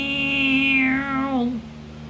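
A voice imitates a loud dot-matrix printer with a single drawn-out, whining "meow"-like sweep that falls in pitch, sounding close and prominent.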